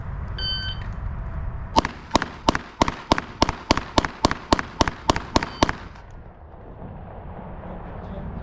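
A string of about thirteen pistol gunshots fired in quick, evenly spaced succession on a timed run, sharp and loud, preceded by a brief electronic timer beep and followed by quieter background.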